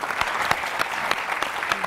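Studio audience at a Pakistani television iftar show breaking into dense, continuous applause, many hands clapping at once, close and loud with no talking.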